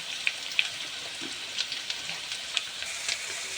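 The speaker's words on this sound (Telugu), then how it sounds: "ఆనియన్స్ ఫ్రై అయిపోయాయి కదా" Onions fry with salt in a pan, giving a steady, close hiss with light crackles throughout.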